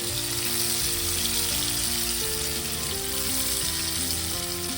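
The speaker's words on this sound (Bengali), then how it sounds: "এই যে মাছগুলো হালকা করে ভেজে নিলাম, মাছগুলো আমি তুলে নিচ্ছি" Hilsa fish frying in a pan, a dense continuous crackling sizzle of hot oil heard up close and steady, with faint background tones and no talking.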